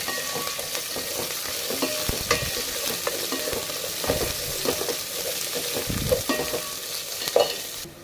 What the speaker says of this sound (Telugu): ఉల్లిపాయలు వేసుకుంటున్నాను ఇవి కూడా బాగా ఫ్రై అవ్వాలి ఆనియన్స్ అనేవి brown colour golden brown colour వచ్చినంత వరకు ఫ్రై చేసుకుంటాను